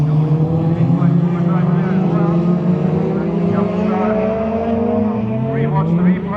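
Stock cars racing in a destruction derby at Crimond Raceway in Scotland, engines roaring loud and continuous with rising and falling revs as the cars jostle, a commentator's voice running over the din.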